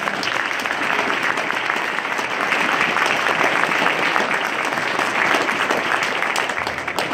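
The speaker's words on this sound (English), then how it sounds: "a big round of applause" A university audience applauds steadily for a welcome address, dense sustained clapping that stays loud and even throughout without letup.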